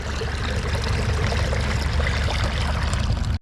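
Water is poured from a bucket into a crop sprayer tank as one steady, loud, rushing pour that runs without a break and stops abruptly at the end.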